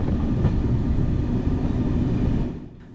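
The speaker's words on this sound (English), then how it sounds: "This snow clearing train gives an idea of just how harsh the weather can get up here." A snow-clearing train in the Pyrenees rumbles past with a loud, steady low roar and rail noise, fading out abruptly near the end.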